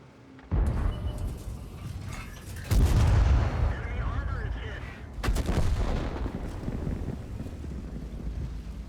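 FV224 Chopper tank gun fires in a video game: two heavy booming shots several seconds apart, each a sharp loud blast trailing into rumble, over constant wind-like background noise.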